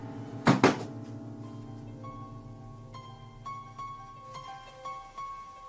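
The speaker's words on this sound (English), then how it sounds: "The creepy things down here always start with a ghost slamming the door." A door slams in a basement: two quick heavy thuds close together near the start, followed by a sustained, eerie tonal drone with scattered higher notes.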